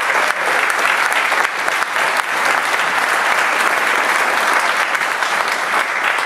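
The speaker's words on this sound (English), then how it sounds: "one more round of applause for the sponsors?" Sustained audience applause for the sponsors at a tech talk on Amazon's Appstore: a loud, dense wash of many people clapping that holds steady for several seconds.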